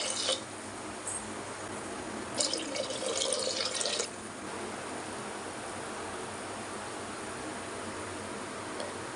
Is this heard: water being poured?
yes